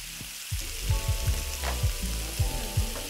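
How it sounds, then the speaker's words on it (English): Sauce for baked spaghetti bubbling and sizzling in a pan, a close, steady hiss punctuated by several quick scraping stirs. "Let this simmer for 5 minutes."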